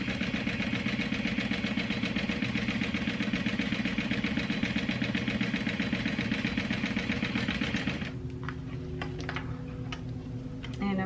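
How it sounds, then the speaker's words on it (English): A sewing machine runs a quarter-inch seam on a barrel bag with a fast, steady ticking whir. After about eight seconds it stops, leaving a low hum and a few scattered clicks. "And I'm sewing at 1/4 of an inch."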